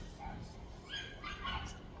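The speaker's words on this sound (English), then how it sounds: "I mean dogs. I don't know what kind of dog. I never. They sound small." A neighbor's small dogs bark and yip faintly in the distance, a few short high barks over quiet background.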